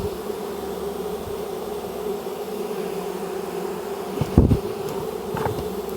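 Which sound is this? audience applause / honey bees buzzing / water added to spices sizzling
honey bees buzzing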